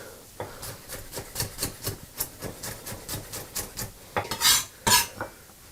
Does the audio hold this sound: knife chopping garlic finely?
yes